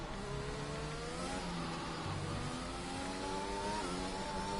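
A racing car in a video game revs and accelerates, its engine tone sweeping up through the gears with a faint high turbo whistle, steady and fairly distant, with no talking.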